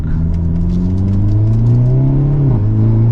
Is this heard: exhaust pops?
yes